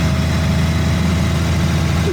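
A car nicknamed Sizzle, its gearstick snapped after a five-speed gearbox swap, creeps along slowly in second gear; a steady low engine drone with vibration runs close and continuous throughout, with no talking.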